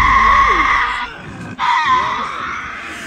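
Tasmanian devils in Tasmania give harsh, screeching growls and wavering screams, loud and close, with a brief pause before another rasping call rises and trails off.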